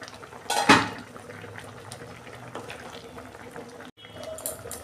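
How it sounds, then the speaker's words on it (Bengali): A metal lid lifted off a cooking pan with a sharp clank near the start, then a soft simmering bubble and faint kitchen clatter, a brief dropout before the simmer resumes. "আমি ঢাকনা খুলছি"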